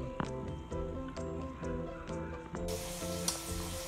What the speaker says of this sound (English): I think that was enough time to let my grease heat up a little bit more, and I'm gonna go ahead on and drop some more shrimp